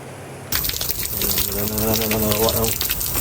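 Flood water from a heavy downpour rushes and gushes through overflowing irrigation channels, starting abruptly as a steady, loud, close wash of water that holds throughout.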